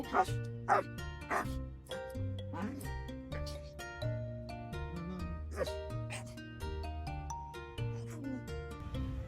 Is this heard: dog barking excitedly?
yes